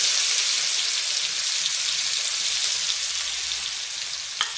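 Crushed ginger, garlic and chili sauté in hot oil in a pan for a prawn gravy, giving a bright, even frying hiss with faint crackles and a sharp clink near the end, close and steady, no voices.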